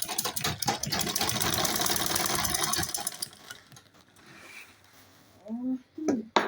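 A sewing machine stitches a large homemade travel bag with a dense, steady run for about three seconds before stopping. A short voice follows near the end.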